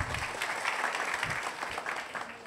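Audience applause welcoming newcomers at a business gathering, a steady patter of clapping from a moderate crowd that lasts throughout at an even level.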